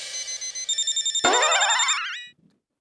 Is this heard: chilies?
no